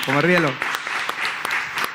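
Scattered claps from a small audience at a book presentation on the Magellan and Elcano voyage. A voice speaks briefly at the start, then a few sparse claps follow.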